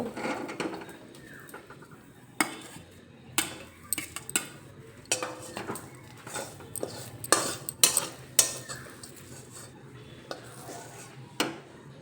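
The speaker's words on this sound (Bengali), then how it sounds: "পেঁয়াজ ভেজে নামিয়ে নিলাম" Fried onions are lifted out of a pan with a metal spoon, giving a dozen or so sharp, close clinks and scrapes at an uneven rhythm over a quiet background.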